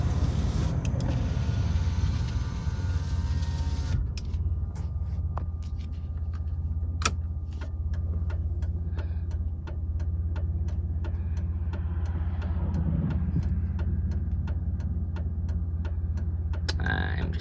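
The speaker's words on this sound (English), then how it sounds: "Roll up the window so we can hear the engine a little better." A 1994 Chrysler Town & Country idles with a steady low hum throughout, and a few faint clicks and small mechanical noises sit on top of the engine drone.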